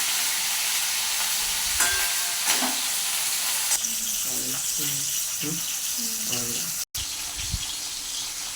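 Catfish (magur) pieces fry in hot oil with a steady broadband sizzle, broken by occasional stirring knocks and soft scraping.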